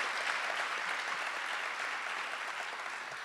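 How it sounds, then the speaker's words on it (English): An audience at a school leadership gathering claps steadily and loudly throughout, a dense wash of applause with no voices on top. "Let's give them a round of applause for teaching and learning."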